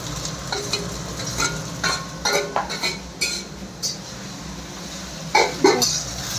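Tomato dropped into garlic paste frying in hot oil in a restaurant-style chicken dish, with a steady sizzle and several sharp clinks of a metal spoon against the pan.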